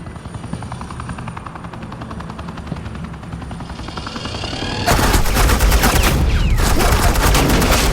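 Suppressing gunfire in the Batman: The Enemy Within game, a low rumble that jumps to a loud, dense burst of rapid shots about halfway through and holds steady to the end, with an aircraft-like drone underneath.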